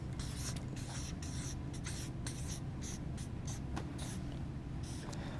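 Pen scratching across paper by hand, a steady series of short scribbling strokes close to the microphone over a constant low background hum, no speech.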